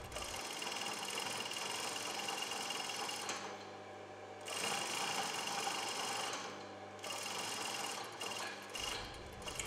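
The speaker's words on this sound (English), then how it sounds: "Sew along the seam edges." A sewing machine stitching a French seam along fabric edges runs in steady mechanical bursts, with a couple of short pauses where the stitching stops before resuming, close and moderately loud.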